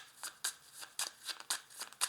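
A deck of 32 playing cards being cut and handled, with quick crisp papery riffles and snaps repeating at an uneven rhythm, close and quiet.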